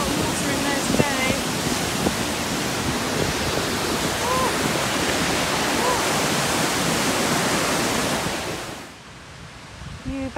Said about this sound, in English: You can see them and you can hear the water.